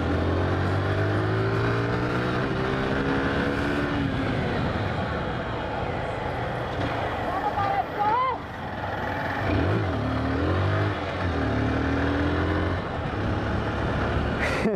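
A Yamaha MT-07 motorcycle in a video game accelerates with a continuous loud engine drone that rises and falls in pitch through revs, with a voice talking over it and music underneath.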